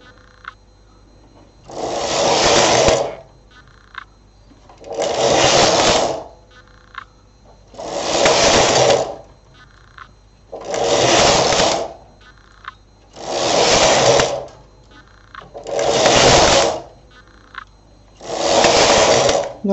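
Knitting machine carriage sliding back and forth across the needle bed while knitting rows of a sock. Seven regular whooshing, whirring passes come roughly every two and a half seconds, each loud and close, with short quiet gaps between them.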